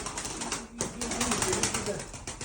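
A pigeon cooing close by amid a busy, noisy background, with people talking over it.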